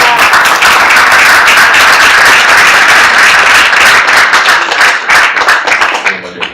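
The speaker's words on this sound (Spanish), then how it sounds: "¿Le damos un aplauso?" An audience at an author event claps in a loud, dense burst of applause that holds steady for several seconds and then thins out and fades.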